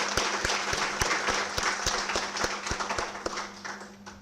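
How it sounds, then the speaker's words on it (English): Audience at a national pharmacy innovation competition breaks into sustained applause, dense clapping from many hands filling the room evenly without any talk. "let's put our hands together and a huge round of applause"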